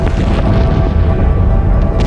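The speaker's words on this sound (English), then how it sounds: "A series of booms could be heard hundreds of miles away." Deep, continuous rumbling booms of the Krakatau volcanic eruption, loud and heavy, rolling without pause.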